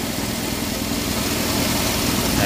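A car engine idles steadily during a battery and alternator charging check, a continuous close rumble with even vibration and no voices.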